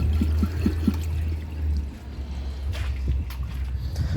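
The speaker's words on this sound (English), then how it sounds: "Now let's get some water back in the bowl" Water pours into the bowl of a 2005 Briggs Abingdon toilet in a short, splashy, trickling burst, close up, over a low steady hum and with no talking.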